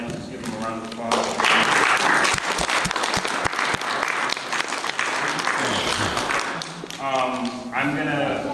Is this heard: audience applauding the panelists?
yes